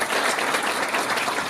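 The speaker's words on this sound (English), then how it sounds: "Can we give them a round of applause" Audience applause at a charity benefit show in a theater, dense steady clapping filling a short burst at even loudness, with no voices standing out.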